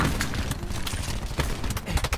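Gunfire from the Call of Duty Black Ops 4 video game comes as a rough, dense burst of sharp cracks and booms over a busy, noisy game mix.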